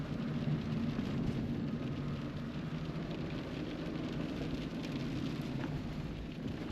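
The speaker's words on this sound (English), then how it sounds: "The weather's very, very, very grim today. It's rained so much." Heavy rain drums steadily on a van as it drives toward the Croatian border in grim weather, a constant broadband wash over low road rumble with no voices.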